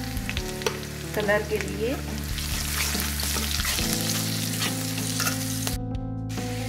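Onion, chilli and curry leaves frying for poha give a dense, continuous sizzle with stirring scrapes, and someone talks briefly over it.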